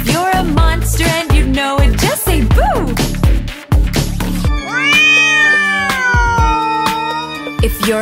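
In a children's Halloween nursery song, a voice imitates a black cat with a long, wavering sung meow that follows a phrase of bright sung melody over bouncy backing music.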